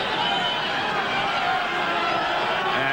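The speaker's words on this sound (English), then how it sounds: "The crowd are setting up a roar." A rugby league crowd at Watershedding, Oldham, for a 1986 match against Australia roars in a steady, broad wash of noise that stays at an even loudness throughout, with no individual voices standing out.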